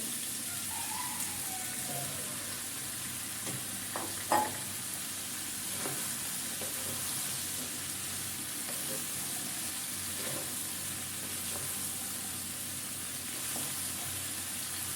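Chopped bottle gourd frying in a pan for a mixed vegetable dish, a soft continuous sizzle with a few light stirring clinks and scrapes, fairly quiet and steady throughout.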